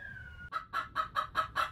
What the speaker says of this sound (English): Yes, they cluck.